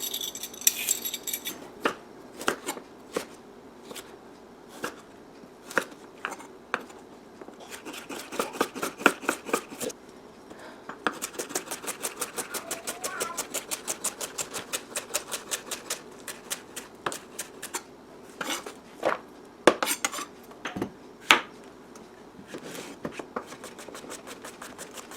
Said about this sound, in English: I know you love watching me chop vegetables